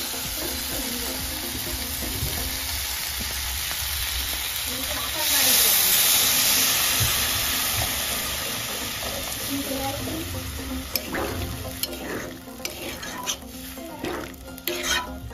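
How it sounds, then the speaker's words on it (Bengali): Water poured into chickpeas and potatoes frying in a pan, a loud rushing hiss swelling then settling into a steady bubbling sizzle, with stirring clinks near the end, close and continuous without talk. "ছোলা আর আলুটা সিদ্ধ হওয়ার জন্য জল দিয়ে দেবো এখানে।"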